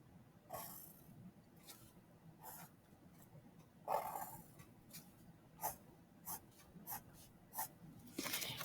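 A picture is drawn by hand for a fractions lesson, heard as faint scratchy pen strokes in short, uneven bursts over quiet room tone.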